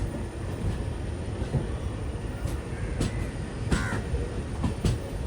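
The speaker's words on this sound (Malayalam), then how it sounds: "ഇതിപ്പോൾ ഷൊർണൂർ നിലമ്പൂർ റോഡ് എക്സ്പ്രസ്സിനെ ഷണ്ടിങ് ചെയ്ത് വന്ന് പോകുന്നതാണ്" A WDG 3A diesel locomotive rumbles past after shunting the Shoranur–Nilambur Road Express, a steady low engine drone with faint rail clanks and a crow cawing in the background.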